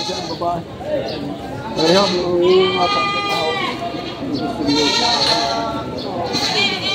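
Goats for sale at Padre Garcia, Batangas bleat repeatedly in wavering, nasal cries close by, with people talking over and between the calls.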